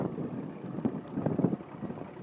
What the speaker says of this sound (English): while the engine's on right now